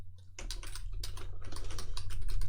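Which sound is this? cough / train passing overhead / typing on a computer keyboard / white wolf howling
typing on a computer keyboard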